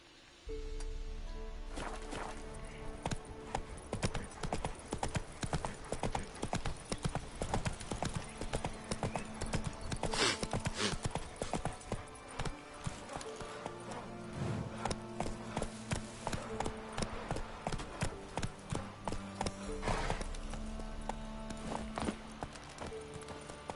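Hooves of the horse Roach clip-clop steadily at a gallop in The Witcher 3 video game, a loud continuous rhythmic beat running throughout with game music beneath and brief snorts.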